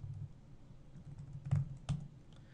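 Typing on a computer keyboard while configuring a network switch, a few soft scattered keystrokes with two sharper clacks close together near the end, quiet and close with no voices.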